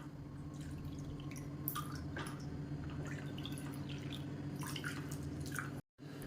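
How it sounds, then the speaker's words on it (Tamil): Water poured from a cup into a bowl of roasted black urad dal and red rice flour while making kali, a steady close trickling and dripping over a constant low hum, cutting off briefly near the end. "இப்போ எந்த கப்பில் மாவு எடுத்தோமோ அதே கப்பில் 3 கப் அளவுக்கு தண்ணி சேர்த்துக்கலாம்."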